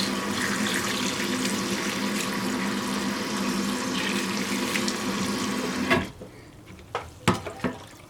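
African breadfruit seeds (ukwa) being washed in a basin of water, a steady dense sloshing and splashing that runs for several seconds, then gives way to a few separate sharper splashes and drips near the end.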